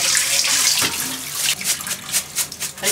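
Rice rinsed in water for a Showa-style omelet rice is poured into a colander to drain, a close wash of splashing water followed by uneven trickles and slops, with no talking.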